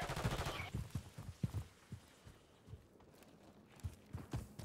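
Rapid bursts of automatic fire from a switch-equipped gun in Call of Duty sound in quick repeated volleys, fairly faint and punchy, with pauses between strings of shots.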